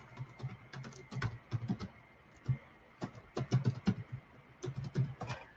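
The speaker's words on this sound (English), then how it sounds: "Let me put it in here. I'm going to type it in." A computer keyboard clatters as a web address is typed, with quick irregular keystrokes in short runs separated by brief pauses, close and fairly quiet.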